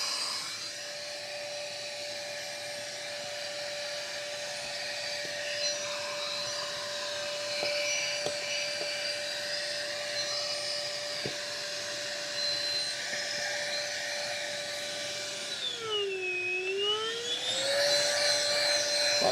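A steady, loud whine of a Beldray Cordless Quick Vac Lite stick vacuum's small motor runs throughout, with a high tone that dips and rises near the end as the power changes.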